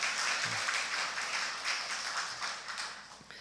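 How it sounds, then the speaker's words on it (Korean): A church congregation claps together in a steady, soft wash of applause that fills the room at a distance and fades slightly toward the end. "우리 아기태성 교사님을 위해서 박수 한번 다시 한번 해드릴까요?"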